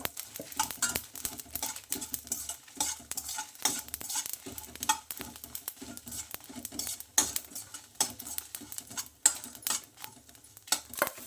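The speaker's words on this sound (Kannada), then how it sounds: "ಇವಾಗ ಸ್ವಲ್ಪ ಇದಕ್ಕೆ ಎಣ್ಣೆ ಹಾಕ್ತಾ ಇದ್ದೀನಿ. ಒಣಮೆಣಸು" Dry red chillies fry in oil in a pan, soft sizzling under frequent sharp clinks and scrapes of a spoon stirring against the metal, close and uneven, no talking.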